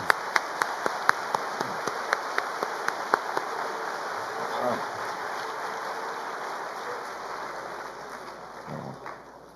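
A church congregation at a worship service applauds in thanks, a steady rain-like patter of many hands that starts with a few distinct claps and continues evenly at moderate distance.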